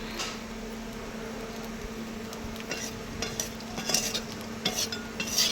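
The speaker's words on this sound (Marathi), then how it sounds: "आता इथं खोबरं पण चांगलं भाजायचं आपल्याला थोडंसं डार्क भाजायचं" Grated coconut dry roasting in a pan for a traditional black masala, with soft repeated scraping and stirring strokes, faint crackling and a low steady hum in the background.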